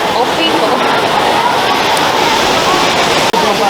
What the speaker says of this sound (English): So this is the real side to the Trevi Fountain.